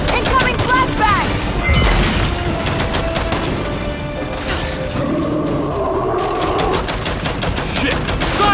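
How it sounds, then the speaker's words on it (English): Gunfire and a flashbang grenade in the Gears 5 video game, a dense loud clatter of shots and mechanical noise with a burst near the start, under game voices shouting throughout. "Incoming flashbang!"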